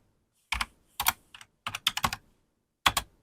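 Quick bursts of keystrokes on a computer keyboard while setting up OBS Studio, arriving as several short clustered groups of clicks separated by brief pauses, close and clear with no talk.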